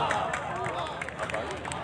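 Hands clap in a lively crowd at a national mushaira poetry gathering in Karachi, with quick scattered claps under overlapping talk and murmuring.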